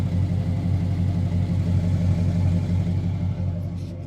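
An LS-swapped Chevrolet Bel Air with a camshaft, upgraded exhaust and upgraded heads idles close by, a steady, deep rumbling engine note with a mild, even tone.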